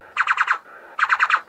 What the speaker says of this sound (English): For starters, just putting it on the ship and moving it around sounds like this.